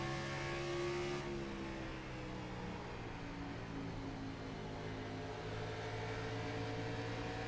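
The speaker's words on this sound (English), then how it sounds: "Here's some of the throttle inputs from Priest as he exits turn 4" Race car accelerating out of turn 4 on an oval, its engine a steady, loud, rising roar that fills the whole stretch with no talk over it.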